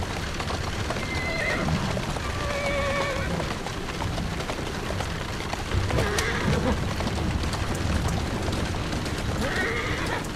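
A horse in Assassin's Creed Syndicate on PS5 neighs and whinnies several times over the steady clip-clop of hooves, loud and close throughout.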